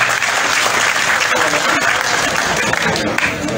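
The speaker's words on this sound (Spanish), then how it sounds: "Un fuerte aplauso para él." A crowd applauds loudly and steadily at a hospital handover ceremony held by Bolivia's vice minister of health, welcoming a trauma doctor. The dense clapping runs without a break, with faint crowd voices mixed in.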